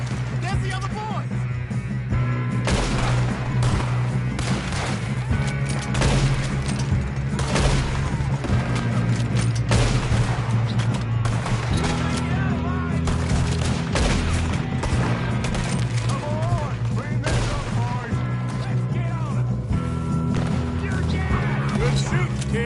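Sustained gunfire in a Red Dead Redemption 2 shootout, dense overlapping shots and clatter under a continuous music-like backdrop, with shouted voices mixed in throughout.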